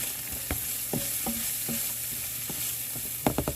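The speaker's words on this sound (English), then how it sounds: "I'm gonna put there some garlic, people. Put the tiny onion that magically got minced earlier," Garlic and minced onion frying in a pan for leftover fried rice, a steady sizzle under a run of sharp stirring clicks and scrapes, with a busier cluster of scraping near the end.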